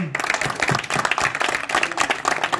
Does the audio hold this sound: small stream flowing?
no